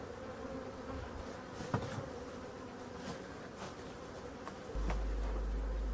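Honey bees buzz around an open hive during the last honey harvest of the season in Brittany, a steady close hum with individual bees passing near, and a few soft knocks from the hive work.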